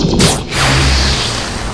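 A giant ball of hot plasma and electricity flies past at high velocity with a loud, rushing whoosh. A brief swish opens it, then a sustained roar carries on to the end.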